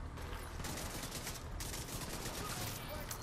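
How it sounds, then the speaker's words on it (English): Rapid gunfire in the video game The Division 2, a dense continuous barrage of shots with bursts running throughout, loud and close, with no talking. "Why's my shooting so shit today?"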